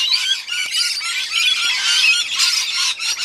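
A raucous mob of lorikeets and parrots squawks and screeches continuously in apple trees, overlapping shrill calls close by and loud, with no letup.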